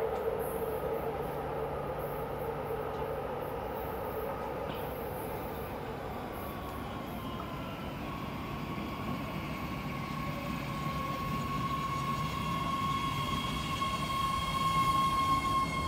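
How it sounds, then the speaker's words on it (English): A BART Fleet of the Future Yellow Line train bound for SFO Airport rumbles steadily into a platform with a broad rolling roar, a faint metallic whine rising as it runs along the rails, with no voices. "Airport train, Fleet of the Future, Yellow Line train, coming to platform number 2"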